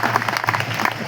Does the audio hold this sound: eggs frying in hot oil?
no